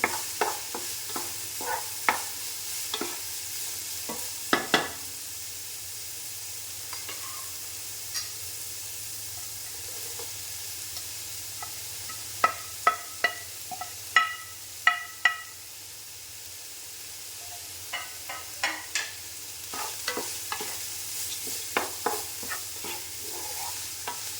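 Cabbage tossed in a pan for chicken fried rice, a soft steady sizzle beneath irregular scraping clinks of a spatula against the pan, close up and without voices.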